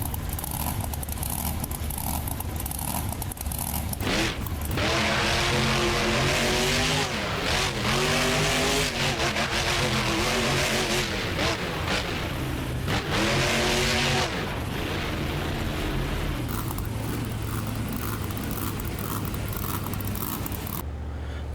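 A Ford monster truck in BeamNG Drive roars through a straight-line Monster Jam run, its engine revving hard in rising and falling surges with tire squeal. Loud and close throughout, with no talk over it.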